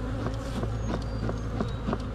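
Honeybees buzzing steadily at an opened hive, a dense, continuous close drone with no talking over it.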